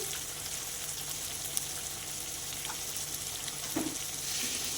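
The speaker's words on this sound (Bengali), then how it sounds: "এবার ভালো করে কষিয়ে নেবো" Papad curry stir-frying in a pan with salt and turmeric, giving a steady low sizzle throughout with a few faint clinks and scrapes of stirring.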